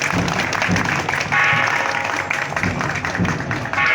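Crowd applause at the Cheng Ho festival 2025, a dense, steady clatter of many hands clapping outdoors that swells slightly and holds for several seconds, with faint voices mixed in.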